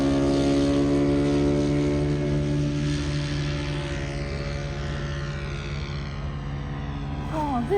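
A radio-controlled model P-47 warbird flies at a model aircraft club in Whiteman Park, Perth. Its propeller engine gives off a steady, moderately loud droning buzz with a slowly shifting pitch as it passes, heard alone with no talking.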